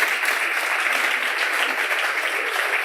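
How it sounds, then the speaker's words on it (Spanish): Audience at an ESIC entrepreneurship talk in Spain applauding, a dense, steady clapping that fills the room throughout without pause. "Un aplauso en realidad, Jesús, mientras te sientas y ya."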